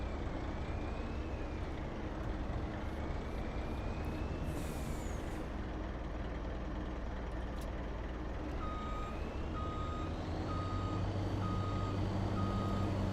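A truck in Farming Simulator 25 sounds a regular series of reversing beeps over its low idling engine, with an air-brake hiss partway through; no one speaks.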